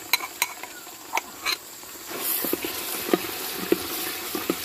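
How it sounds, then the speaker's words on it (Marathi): Roasted, pounded onions and spices fry in oil in a pan for a chicken party meal, a soft sizzle beneath sharp clinks and taps of a spoon stirring against the vessel. "कांदे मसाले चांगले तेलामध्ये तळून घेतो."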